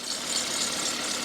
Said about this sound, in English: Nice and steady on the engine here.